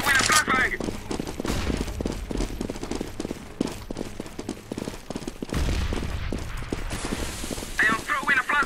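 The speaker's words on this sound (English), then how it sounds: "I am throwing a flashbang!" In a CS:GO competitive match, a flashbang grenade is thrown amid dense gunfire, clattering mechanisms and footsteps. The sharp bursts sit close and loud, with brief high ringing tones near the start and end.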